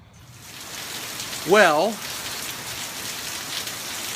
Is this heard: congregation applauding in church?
no